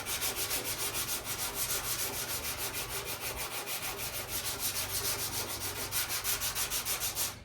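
Hand sanding of a very light gray sealer coat on a surface, a steady rhythmic scratchy rubbing with regular back-and-forth strokes, close and continuous with no talking.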